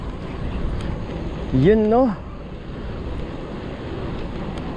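Steady wind buffeting the microphone in a continuous low rumble, with a brief spoken phrase partway through.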